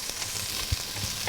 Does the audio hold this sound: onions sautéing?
yes